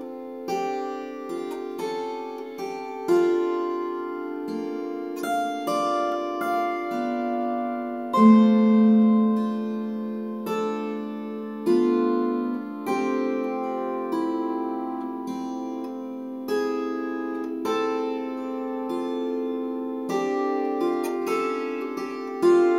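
Slow swing arrangement of Stephen Foster's "Swanee River" played as a practice exercise, melodic instrumental phrases with sustained tones and a steady relaxed pulse, no voices.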